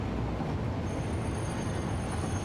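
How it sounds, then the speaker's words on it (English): Electric locomotive rolling along rails in the video game Satisfactory, a dense, steady rumble of wheels and motor with a faint high whine, continuous and fairly loud, no talking. "Electric locomotive. Here we go. Let's drive over to the trains that are having issues and see what's going on."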